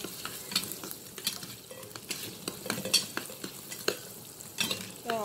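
Shrimp and garlic sizzle in hot oil as a utensil stirs them with repeated scraping clinks against the pan, a close and lively frying sound.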